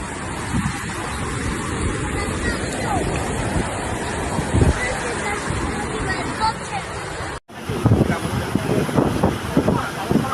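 Floodwater rushes through city streets in Zaragoza, Spain, during heavy July rain, a loud steady churning roar with wind buffeting, a brief cut, then more turbulent surging as voices chatter in the background.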